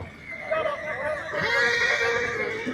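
A horse whinnies loudly and close by at a horse fair, a long shrill neigh that wavers and rises before trailing off.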